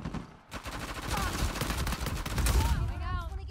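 Rapid video game gunfire bursts through a wall, a dense fusillade of machine-gun-like shots running steadily throughout, loud and close, with game effects but no clear talk.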